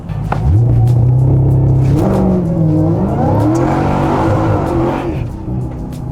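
Dodge Demon 170 supercharged V8 roaring loud and close, the engine note rising and swelling as it revs hard, with a whine riding over the deep rumble and no talking.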